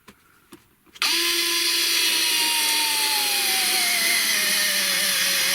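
A Fanttik L1 Pro 3.7V cordless power screwdriver on its highest torque setting starts up after a couple of faint knocks and drives a self-feeding paddle bit into wood, a loud steady motor whine that slowly drops in pitch as it bogs under load.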